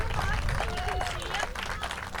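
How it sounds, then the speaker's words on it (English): An audience claps warmly at a community mural unveiling, a steady wash of applause mixed with murmuring voices and a few cheers throughout. "Let's give them a warm hand of applause."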